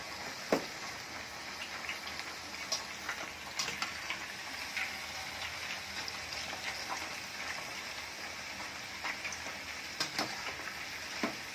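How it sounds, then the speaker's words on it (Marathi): Raw banana slices frying in hot oil for crisp homemade wafers, a steady dense sizzle with crackling pops throughout, fairly close and without voices. "स्लाईस करून आपण आता तळून घेत आहोत"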